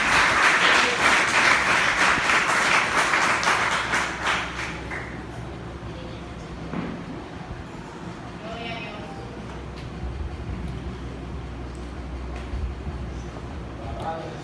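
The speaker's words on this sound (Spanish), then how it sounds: "Dele un aplauso al Señor," Congregation applause at a Christian sermon, loud dense clapping for about the first five seconds, then fading into quiet room tone with faint murmuring.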